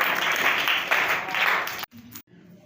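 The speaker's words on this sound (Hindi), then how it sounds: "सदर साहब के लिए तालियां" Applause from the audience at a poetry gathering (mushaira) for its president, a short burst of crowd clapping that stops abruptly after about two seconds, followed by near silence with a faint voice.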